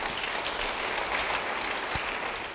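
Church congregation clapping during a sermon, a steady dense wash of many hands applauding at moderate volume throughout, with one sharper isolated clap standing out near the end.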